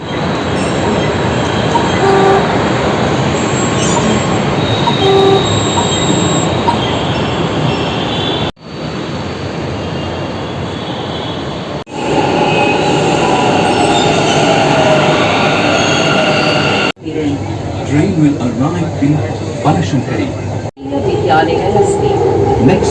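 A metro train rumbles steadily along with wheel squeal and rattling, while voices and station announcements come and go over the continuous noise.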